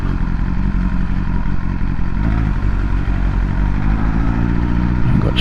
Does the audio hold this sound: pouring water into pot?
no